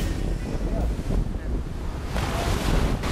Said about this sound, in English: This is Bronte Beach, mate.